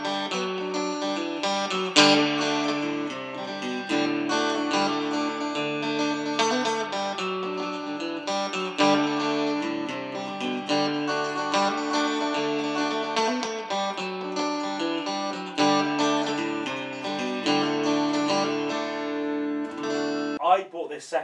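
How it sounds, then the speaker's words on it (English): A Strat-type electric guitar played through a Fender Frontman 25R 25-watt solid state amp rings out with chords and picked riffs, fairly loud and close and continuous, with a slightly driven edge. "This is a 25 watt solid state amplifier, okay? And it sounds like this."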